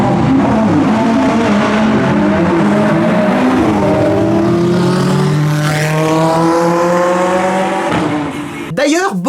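A Ferrari 488 Pista drives on the track at Spa with a loud, close engine note that climbs and falls through the gears, while a voice talks over it.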